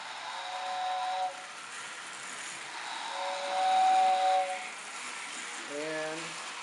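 A shrill steam-type whistle from a Lionel O gauge toy train set sounds in a few short toots and one longer blast, over a steady background hiss and faint mechanical noise.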